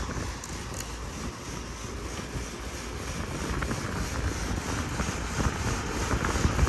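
Condenser fan motor rated at 0.8 amps runs steadily on an air conditioning unit with high subcooling and fluctuating head pressure, giving a continuous broadband whooshing drone that grows slightly louder toward the end, with no talk over it.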